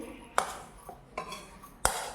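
Roasted chutney ingredients are scooped from a pan into a mixer jar, giving three sharp metallic clinks of a spoon against the vessels, spaced apart over quiet background noise.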